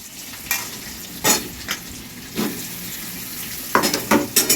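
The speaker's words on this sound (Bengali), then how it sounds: "আলুগুলো একটু ভাজা ভাজা করে নিচ্ছে" Potatoes frying in oil with whole cumin and bay leaf, a steady low sizzle broken by several bursts of stirring and scraping in the pan.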